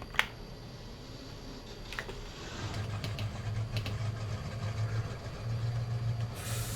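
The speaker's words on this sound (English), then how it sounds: "love the motor sound and the startup." A ZIL 131 truck engine in Farming Simulator 22 starts up a few seconds in and settles into a low, steady, rumbling idle, heard alone with no talk.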